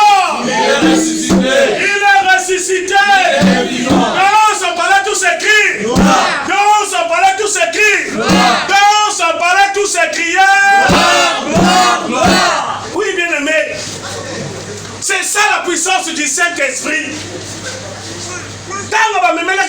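A church congregation at a Pentecostal service loudly cheering and acclaiming, a big wave of shouting voices with bursts of yells that ebbs toward the end.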